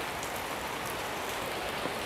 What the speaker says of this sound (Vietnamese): Trời đang mưa á mọi người,